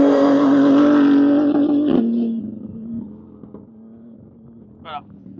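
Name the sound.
prototype race car accelerating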